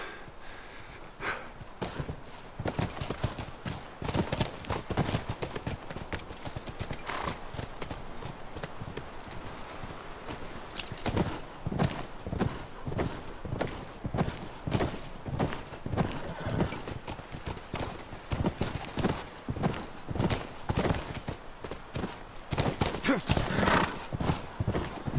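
Horses clip-clopping at a steady trot or gallop in the video game The Last of Us Remastered, a continuous rhythmic train of hoof strikes with an occasional whinny, close and moderately loud with no talk over it.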